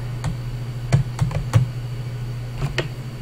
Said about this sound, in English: I bet you could probably hear my keyboard and my mouse